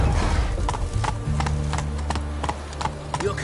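Roach, Geralt's horse in Witcher 3 on PS5, gallops with a steady, close clip-clop of hooves over a low music-like drone, with no talking.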